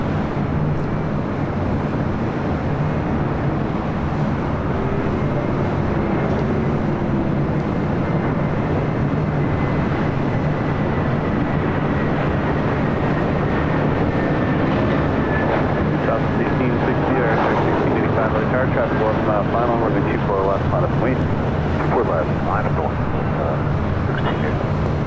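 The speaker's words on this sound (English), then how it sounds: "British Airways Flight 282 heading back to London Heathrow at a 777-200ER." A British Airways Boeing 777-200ER departs LAX for London Heathrow with a loud, sustained engine roar and a slowly sliding whine, while wind buffets the microphone and people talk over it.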